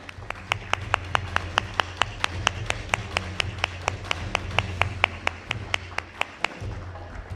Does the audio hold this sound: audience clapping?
yes